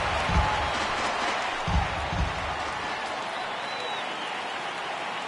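Baseball crowd at a minor league All-Star Game in Chicago rising on a full count, a broad sustained roar of cheering with a few louder claps and thumps early on, gradually settling.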